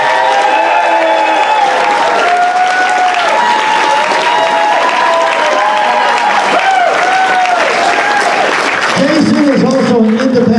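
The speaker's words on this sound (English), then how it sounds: "Let's hear a big round of applause for Jason Delgrado." Audience applause at a costume contest, sustained clapping and cheering from a crowd under music with wavering tones, a steady loud wash lasting the whole stretch.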